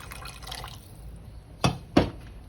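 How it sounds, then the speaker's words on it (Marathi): Water poured into rice in a cooking pot for khichdi: a short, close splashing trickle at first, then two sharp, louder splashes or knocks in quick succession near the end. "आता मी पाणी टाकून घेणार आहे"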